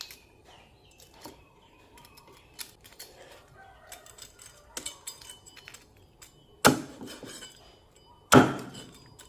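A knife crunches through the crispy fried skin of pork belly, with light crackles at first and then two loud, sharp crunches near the end.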